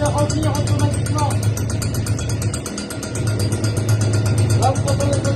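A garden leaf blower's small petrol engine runs just after starting, holding a steady, buzzing idle throughout with a brief dip midway, while someone talks over it.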